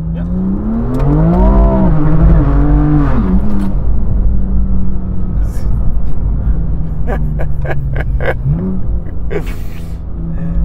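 A 700 PS Manhart-tuned BMW M2 Competition rumbles loudly and continuously under close conversation, with sharp crackling pops breaking through near the end.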